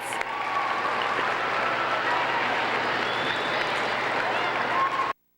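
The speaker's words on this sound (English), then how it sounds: "Give yourself a round of applause." A school audience applauds steadily for about five seconds, a dense, even wash of clapping that cuts off sharply at the end.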